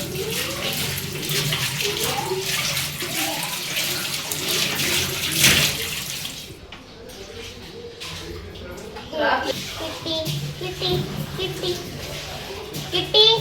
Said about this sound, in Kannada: ಟೀ ಹಾಕಕ್ಕೆ ಕಪ್ ವಾಶ್ ಮಾಡಾಕತ್ತೀನಿ ನೋಡಿರಿ